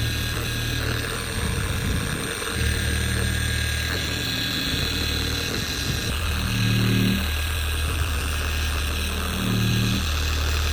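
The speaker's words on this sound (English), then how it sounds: "Finally, I swapped the 3-inch rotary mop for a 6-inch dual action mop." A dual action polisher fitted with a 6-inch mop works over Audi paintwork, a constant loud whirring motor hum with rhythmic dips and swells in pitch as pressure and movement change.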